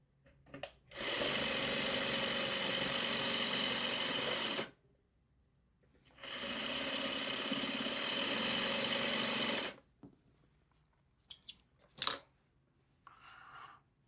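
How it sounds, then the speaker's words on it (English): A sewing machine stitches a quilt block in two steady, loud runs of about four seconds each, separated by a pause, then a few brief clicks and handling sounds. "we will sew this, and then this block will be done."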